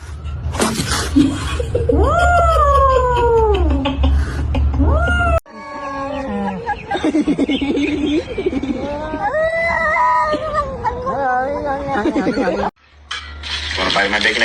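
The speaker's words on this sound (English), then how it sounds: "You were talking to the fucking cat." A cat meows and caterwauls in long, loud, rising and falling wails, several drawn-out cries in a row close by, with brief gaps between them.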